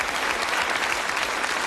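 A studio audience at the Bullseye UK game show applauds steadily, a dense, even wash of many hands clapping that holds at full strength from start to finish without any talk over it.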